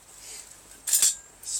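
A spoon clinks against a dish while chicken parmesan is sauced with oven roasted garlic and wine sauce, one short bright clink standing out over faint background, with another light tap at the end.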